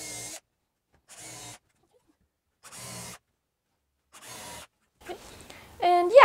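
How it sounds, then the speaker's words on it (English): A power drill drives countersunk screws into a wooden coffee table top in four short, even whirring bursts with brief pauses between them, followed by some louder clattering handling noise. "I'm going to countersink some screws in and just connect the two together."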